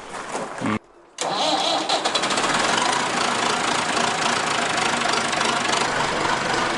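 A large farm tractor's engine cranks briefly, cuts out for a moment, then catches and settles into a loud, rough, knocking diesel idle that runs steadily up close.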